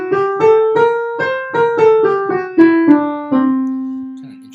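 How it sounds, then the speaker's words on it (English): A Lydian Mixolydian scale played as a series of about ten clear, evenly spaced pitched notes, each with a sharp attack. The notes climb and then fall back, ending on a sustained final tone, with no talking. "We can combine this to become a Lydian Mixolydian scale."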